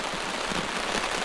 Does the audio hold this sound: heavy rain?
yes